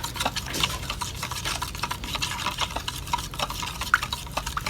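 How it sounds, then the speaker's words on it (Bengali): Powdered milk is mixed in a pan for a quick homemade sweet. Rapid, repeated scraping and tapping of a spoon against the pan runs steadily throughout, close and fairly loud, with no voices. "গুঁড়া দুধটা আমি মিক্স করে নিয়ে নিতেছি।"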